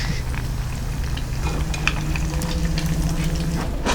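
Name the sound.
sesame seeds frying and sizzling in a pan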